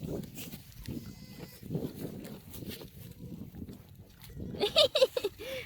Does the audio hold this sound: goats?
yes